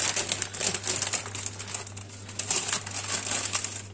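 Close, steady crinkling and rustling of baking paper being folded and pressed around chicken, with soft irregular crackles throughout.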